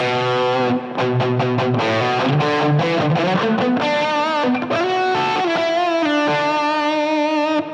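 Heavily distorted electric guitar through a POD Express distortion preset plays a riff of chugging chords and sustained notes, thick and saturated throughout, with no voices.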